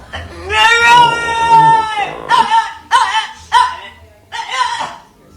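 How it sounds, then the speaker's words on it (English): A dog gives an unusual howl that sounds like a person, with a long wavering note followed by several shorter yowls, loud and close with no talk over it. "the dog has an unusual howl. The dog sounds like a person."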